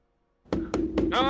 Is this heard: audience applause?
no